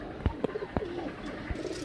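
Low pigeon coos rise over a steady background, with a few sharp taps and clicks mixed in at close range.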